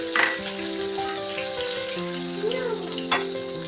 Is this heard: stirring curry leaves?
yes